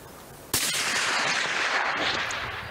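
A single loud sniper rifle shot during special forces training. The sharp report is followed by a long, rolling echo that fades slowly across open ground.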